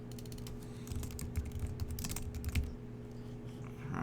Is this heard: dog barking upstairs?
no